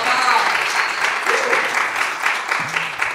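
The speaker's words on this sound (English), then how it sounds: "round of applause" Steady applause from an audience at a Bitcoin talk session, loud and continuous throughout with a few cheers, while a voice speaks over part of it.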